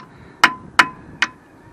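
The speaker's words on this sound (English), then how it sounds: "hammering in just to get it clean so I don't strip it" A hammer drives a T40 Torx bit into the brake disc retaining bolt of a 2003 Renault Trafic 1.9 dCi, three sharp metallic taps evenly spaced and close, with no talk.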